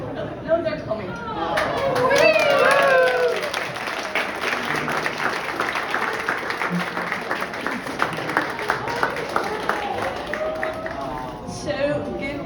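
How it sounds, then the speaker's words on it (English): Audience applause and clapping at a dance event, swelling loud early and then continuing steadily with crowd chatter and some voices over it. "give Maxime and also Lars a very, very big applause"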